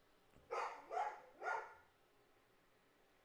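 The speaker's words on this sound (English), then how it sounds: "Okay, ignore the dog and finish this" A dog barks three times in quick succession at moderate distance, followed by quiet and the start of a fourth bark at the very end, over a faint room background.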